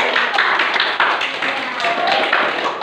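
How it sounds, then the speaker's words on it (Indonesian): A classroom of students claps steadily for a few seconds for a winning group, a dense patter of hand claps filling the room at close range. "Beri tepuk tangan."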